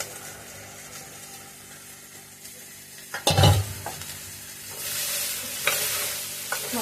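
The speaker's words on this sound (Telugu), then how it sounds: "ఇప్పుడు మనం ఇందులో కట్ చేసుకున్న బీనీస్ని యాడ్ చేసుకోవాలి." Chopped beans tipped into a hot pan for a beans curry, then a steady frying sizzle with scraping stirs from a spoon, a loud clattering burst as they land partway through, close and without talk.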